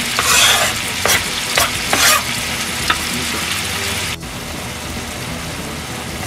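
Chopped onion fries in a pan with a loud, continuous sizzle, punctuated by a few stirring scrapes early on, then settling into an even hiss after a brief dip.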